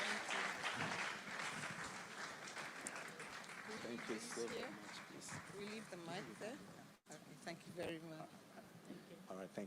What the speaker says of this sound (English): Please, let's clap for everybody as they take their leave from the platform.